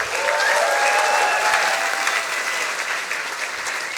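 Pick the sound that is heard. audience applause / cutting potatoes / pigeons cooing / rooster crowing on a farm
audience applause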